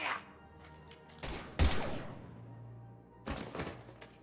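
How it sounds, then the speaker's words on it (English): Gunfire bursts out in Mass Effect 3, a few sharp heavy shots and thuds spaced apart, with a lower hum and rumble between them and no talking over it. "Now open fire!"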